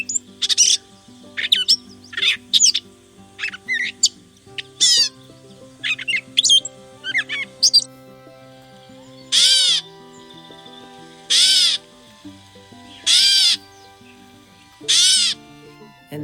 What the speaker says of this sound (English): And that's the call that gives it its name, a catbird.